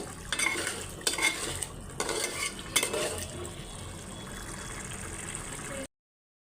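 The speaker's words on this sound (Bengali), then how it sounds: "পেঁয়াজ কষাই নিতেছি আলু দিয়ে দেওয়া হয়েছে আলু কষাই নিতেছি একসাথে" Onions and potatoes sauté in a pan while a metal spoon stirs them. Brisk scraping and clinking strokes ride over a soft, steady sizzle, and then the sound cuts off abruptly into silence.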